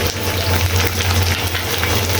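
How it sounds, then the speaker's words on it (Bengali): Prawns fry in hot oil for a Bengali dish with malabar spinach and potatoes, giving a dense, continuous sizzle over a low steady hum, close and fairly loud with no pauses. "হালকা ভেজে নিচ্ছি। ভেজা নেওয়ার পরে আমি এখন চিংড়ি মাছগুলো দিয়ে দিচ্ছি।"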